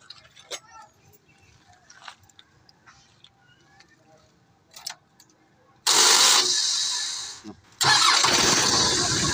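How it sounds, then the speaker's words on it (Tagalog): A Mitsubishi Canter truck with a newly refitted starter cranks and fires up, a loud burst that drops briefly and then settles into a running engine, after quiet key and handling noises and some nearby talk. "Testing natin sa susian kung start na ba. Kasi kinabit ko na yung starter."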